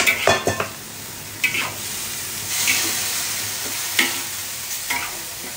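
Bihon noodles stir-fried with vegetables in a hot pan, a steady close sizzle and hiss broken by several scraping, clattering stirs of a utensil against the pan.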